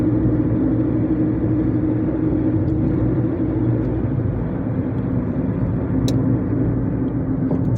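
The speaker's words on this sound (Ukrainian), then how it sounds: "Включив п'яту передачу." A delivery courier's car drives on a city road in Lviv in fifth gear, giving a loud, steady engine and tyre rumble that continues without a break and has no talking over it.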